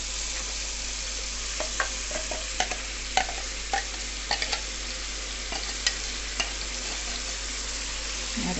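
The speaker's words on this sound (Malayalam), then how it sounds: "ഇനി ഞാൻ അരപ്പൊഴിച്ച് കൊടുക്കാൻ പോവുകയാണ്." Ground spice paste poured into a simmering prawn and tomato curry, sizzling steadily while a spoon scrapes and stirs with a string of sharp clinks against the pan; no talking.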